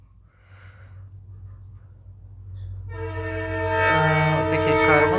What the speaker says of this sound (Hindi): ट्रेन चलेगा